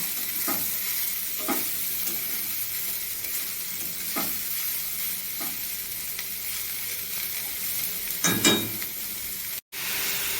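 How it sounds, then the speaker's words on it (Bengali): Chopped ash gourd stirred in a hot frying pan: a low, even sizzle with several scraping spatula strokes spaced a second or two apart, louder near the end, with no voices. "এবার দিয়ে দেবো কেটে রাখা চাল কুমড়ো, দিয়ে ভালোভাবে নেড়ে চেড়ে নেব।"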